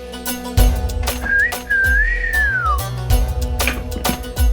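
A man whistles at a woman in a Hindi TV serial scene, a loud rising-and-falling wolf whistle lasting over a second, set against background thuds and room noise.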